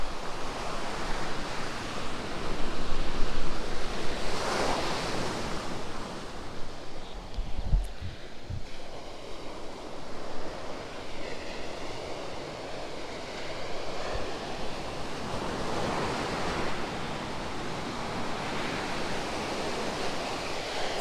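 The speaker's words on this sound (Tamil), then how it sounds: "ரொம்ப ஆக்ரோஷமாக இருக்குது, அலையெல்லாம்" Aggressive ocean waves at Pondicherry beach, a steady roaring wash of surf with heavier breaking swells swelling up every few seconds, close and loud, mixed with wind noise on the microphone.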